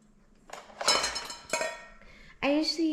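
Kitchen clinks and clatter of a spoon against a cup while instant coffee is stirred together, a few bright metallic taps in short bursts, close and moderately loud, with no talking.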